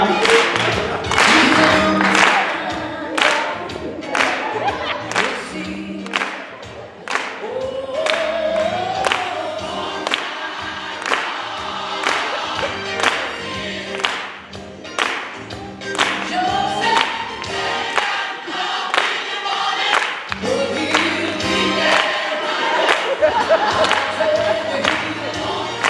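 Gospel choir reunion congregation in Cleveland Heights, Ohio clapping steadily in rhythm along to a loud gospel song, with crowd voices and cheering mixed into the music throughout.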